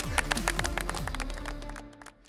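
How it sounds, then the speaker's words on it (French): Applause from a cyber-defence reserve team after an exercise, a dense burst of clapping over a steady low hum, fading toward the end. "On peut s'applaudir."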